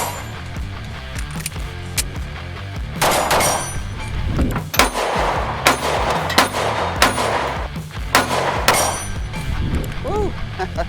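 A Ruger Max-9 subcompact 9mm pistol fires pairs of sharp shots during field training with magazine changes, with metallic clinks and handling noises between, all under background music.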